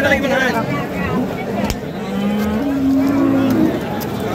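Crossbred bulls mooing close by in long, low calls at a cattle market in Khochabari, Thakurgaon, Bangladesh, over a busy background murmur of voices and distant engine noise.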